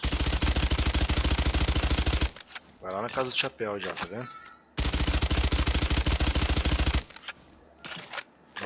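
Spectre submachine gun firing in Valorant, standing without recoil control: two long, loud rapid-fire bursts with dense, even shot rhythm, separated by someone speaking Portuguese, with a short burst at the end.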